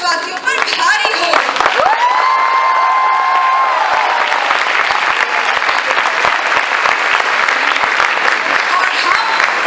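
An audience at an outdoor street play by the Indradhanush troupe of ISB&M breaks into loud, sustained applause and clapping. The applause fills the whole stretch, with a brief tonal voice or whistle rising over it early on.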